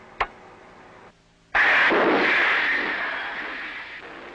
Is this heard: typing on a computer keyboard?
no